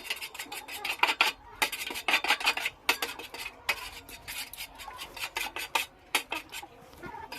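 Ingredients with two cracked eggs being mixed by hand on a plate: close, repeated scraping and rubbing strokes in short uneven bursts, with no talking.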